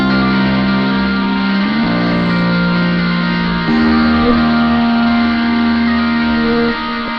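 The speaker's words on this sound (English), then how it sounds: "what I've done here is just added a nonlinear filter," Shoegaze synth and guitar buses run through a nonlinear filter and distortion, giving a dense, sustained distorted drone with resonant peaks that shifts chords a few times, loud and continuous with no talking.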